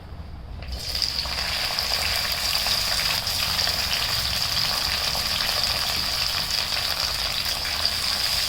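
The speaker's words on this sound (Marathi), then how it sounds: "कढईमध्ये मी तेल गरम करून घेतलं आहे आता ह्या भाज्या धुतलेल्या आहेत त्या सर्व तेलात टाकते" Washed vegetables dropped into hot oil in a kadai for veg Kolhapuri set off a loud, steady sizzle and crackle that starts abruptly and continues evenly, with no talking.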